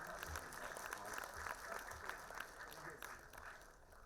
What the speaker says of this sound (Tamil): நல்லா கைத்தட்டுங்க, இது நமக்கு நல்லது